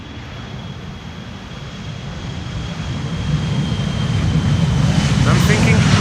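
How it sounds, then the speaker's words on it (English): KLM Embraer 175 regional jet departing Schiphol's Polderbaan runway 36L, a broad steady engine roar that slowly swells louder over several seconds, with outdoor wind rumble and faint voices in the background. "This is KLM flight 1305 to Gdansk in Poland. Embraer 175."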